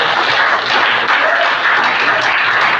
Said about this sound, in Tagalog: Pwede ba tayong pumalakpak sa Panginoon?